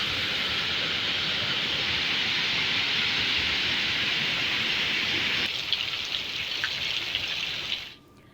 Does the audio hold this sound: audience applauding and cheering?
no